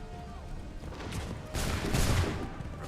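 Musket volley fire in Assassin's Creed 3, a burst of crackling shots rising around the middle and carrying on to the end, loud and dense over background game noise.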